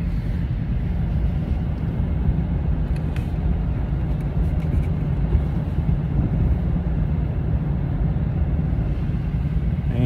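Steady, loud road roar from inside a moving car driving through Jeffersonville, Indiana, a continuous engine and tire rumble with wind noise that holds evenly throughout, with no talking.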